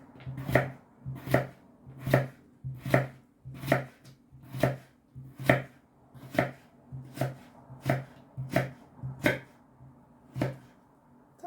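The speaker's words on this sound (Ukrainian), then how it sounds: "Ось я нарізаю такими тоненькими брусочками" A knife chops steadily on a board, cutting potatoes into thin sticks, about a dozen crisp, evenly spaced strokes, close and clear with no talking.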